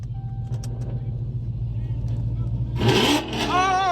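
Loud engine revving from a widebody Scat Pack muscle car in a GTA roleplay game, a steady low rumble that surges near the end, with people talking over it throughout.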